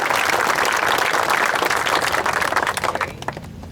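Loud, sustained applause from a crowd at a charity golf event, dense clapping throughout that thins out and fades near the end.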